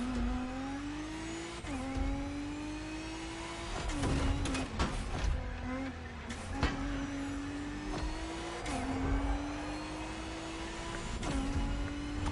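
A car engine in the video game The Crew Motorfest revs repeatedly with a rising supercharger whine and a throaty exhaust growl, pitch climbing and dropping between gear shifts, no talking.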